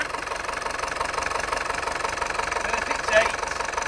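Engine of a small vehicle with two brake pedals, badger-themed, revving steadily while spinning doughnuts, a continuous mid-pitched drone with a brief surge near the end, with voices present.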